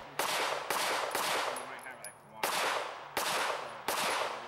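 Gunshots fired at targets on a shooting range, five loud sharp reports in irregular pairs and singles with short echoing tails.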